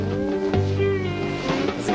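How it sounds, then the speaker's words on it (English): Cat meowing in the 1981 horror film Night of the Zombies: a drawn-out, wavering meow with rising and falling tone, fairly close, over a low background hum. "There's a cat on the bed."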